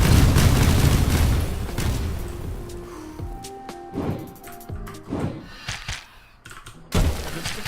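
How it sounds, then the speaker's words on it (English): Bombs going off in the Risk of Rain video game during a Miner run, a dense loud burst of blasts at first, then scattered sharp thuds and booms over game music and effects. "And lots of bombs."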